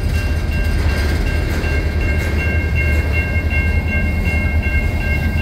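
A CN freight train led by an old Illinois Central locomotive rolls past on the Sorel Subdivision outside Montreal, Quebec, a close, constant heavy rumble with steady tonal whine from the wheels and no talk.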